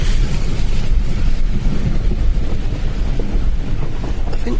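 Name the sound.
car driving fast off-road through deep muddy water, splashing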